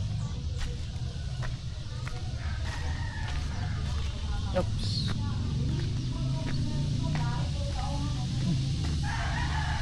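Backyard chickens and a rooster on a small farm, clucking and crowing over a loud, constant outdoor background hum, with a brief spoken word from a person nearby.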